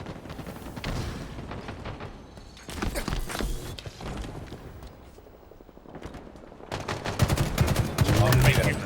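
Battle rifle fire in a competitive shooter match: rapid bursts of close, loud gunshots in several clusters, heaviest at the end, with a commentator's voice talking faintly underneath.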